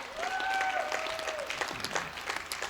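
An audience at a Hindi kavi sammelan poetry recital breaks into a short burst of clapping, moderately loud, with a couple of whistles rising above the applause.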